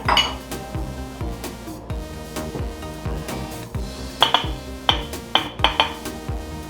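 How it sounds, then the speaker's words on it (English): Carrots and onions tumble into a crock pot for a pot roast, giving a busy run of clinks, knocks and clatters that grows into sharper, louder hits toward the end. "We'll put the carrots and the onions in."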